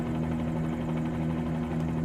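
Bell 47G helicopter hovering in a flight simulator game, its rotor and engine giving a steady droning buzz with strong low tones, constant and fairly loud throughout with no talk.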